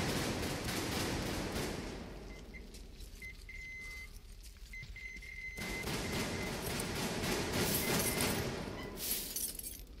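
Rapid gunfire and crashing bursts from the video game Metro Exodus, heard fairly quietly as clustered volleys with a brief lull in the middle before the shooting picks up again.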